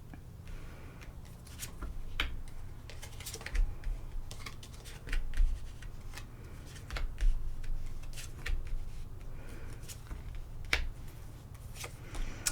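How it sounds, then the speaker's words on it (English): Tarot cards laid out on a table, with many crisp close snaps, slides and taps of cards scattered irregularly over a steady low hum, no talking. "while I get the cards out on the table"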